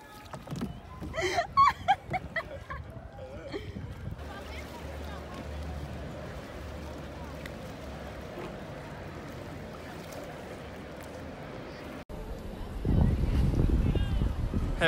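Rowboat being rowed on water: splashing oar strokes in a quick series early on, then a steady watery wash, with loud voices talking near the end.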